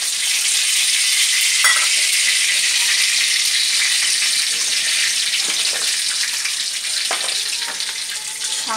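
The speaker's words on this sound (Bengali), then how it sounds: "সাদা জিরে ফোড়ন দিলাম।" Cumin seeds temper in hot oil in a pan, making a loud, dense, continuous sizzle and crackle with occasional light knocks, and no voices.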